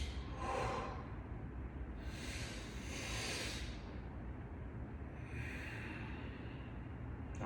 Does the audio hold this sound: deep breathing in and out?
yes